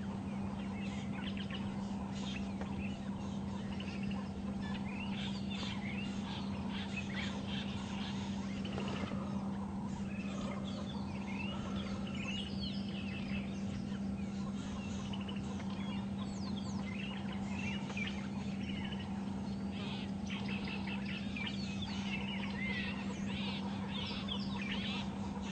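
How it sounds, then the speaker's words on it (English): Faint bird alarm calls chirp and cluck in the distance during a sunrise safari drive, over a steady low vehicle hum. "there's some birds behind us alarming"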